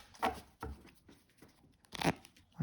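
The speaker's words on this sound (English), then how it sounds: "So I'm going to shuffle up" A deck of playing cards, ace through nine in four suits, being shuffled at a table: several short, crisp riffling and slapping bursts with quiet gaps between them, close and fairly soft, no talking.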